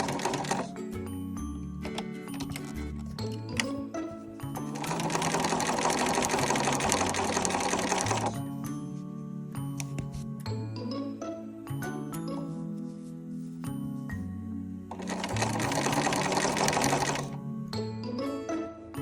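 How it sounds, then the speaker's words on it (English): A sewing machine stitches prairie points onto fabric with a 1/8 inch seam in two long, loud, rapid whirring bursts, separated by quieter clicks and handling noises. "I'm going to sew them on with 1/8 of an inch seam allowance, just so that they're in place"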